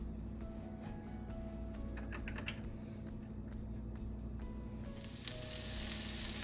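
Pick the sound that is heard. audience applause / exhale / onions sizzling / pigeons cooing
onions sizzling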